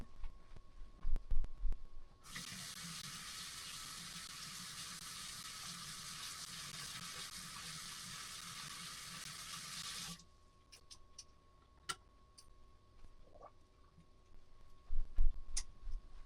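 Running water splashes steadily at a sink as paintbrushes are rinsed, a continuous close wash for about eight seconds that stops abruptly, followed by quieter handling clatter.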